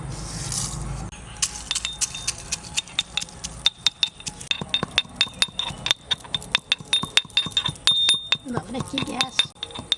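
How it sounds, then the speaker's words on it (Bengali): Fried chillies crushed by hand into powder for a sweet-and-hot village mango leather, with dense rapid clinks, taps and scraping strokes of a hard grinder against a vessel, close and continuous for the whole stretch. "তাই এই লঙ্কা কটা আমি এর মধ্যে একটু গুঁড়ো করে নেব।"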